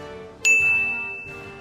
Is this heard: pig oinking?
no